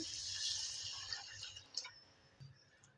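Rice and moong dal being rinsed in water in a kitchen, with soft sloshing and dripping at close range that thins out toward the end, with no one talking.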